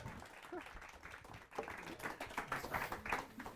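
An audience applauding after a live band's false finish, a dense burst of clapping mixed with voices talking over it.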